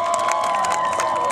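A dinner-event audience cheering and clapping, a dense, steady wash of crowd noise with shouts and whoops throughout the short stretch, fairly loud and filling the space.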